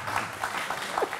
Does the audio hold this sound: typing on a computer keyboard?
no